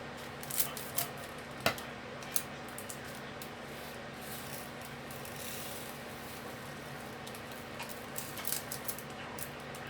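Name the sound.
scissors cutting during diamond painting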